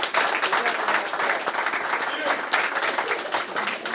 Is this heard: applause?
yes